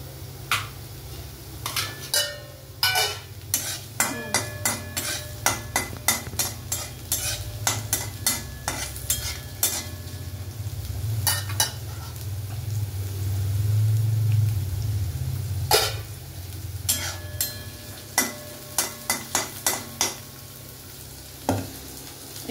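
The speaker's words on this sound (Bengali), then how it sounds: "পেঁয়াজ রসুনটা আমি একটু নেড়ে নিচ্ছি।" Onion and garlic frying in a pan while being stirred, with repeated clinks and scrapes of a utensil against the pan over a steady close sizzle, no talking.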